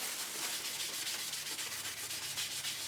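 Sandpaper rubs lightly over a wooden hinged box, a quiet, soft hiss of repeated back-and-forth strokes at an even rhythm, faint and alone.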